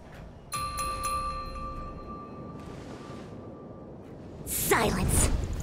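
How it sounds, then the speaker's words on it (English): In Honkai: Star Rail, a harmonic chime rings out with a clear, sustained bell-like tone that lingers for a couple of seconds and fades, followed by a loud whooshing swell near the end. "We could try ringing the harmonic chime"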